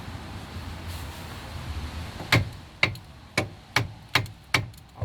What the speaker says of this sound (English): you may just need to persuade it with a hammer as well